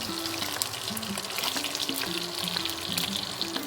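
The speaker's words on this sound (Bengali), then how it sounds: "মাছগুলো হালকা লাল করে আমি ভেজে নিলাম" Pieces of katla fish fry in oil with a dense, steady crackling sizzle, close up and unbroken throughout.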